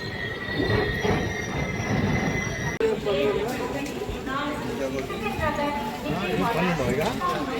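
The Satavahana Superfast Express halts at Dornakal Junction, with steady rumbling of rail cars, squealing wheels and a busy platform hum, and people chatter underneath.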